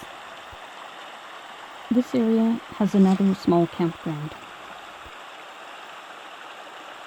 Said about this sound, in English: We reached the upper portion of the creek, and we could hear the lower Whitehorse Falls in the distance.